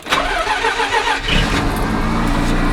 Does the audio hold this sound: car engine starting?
yes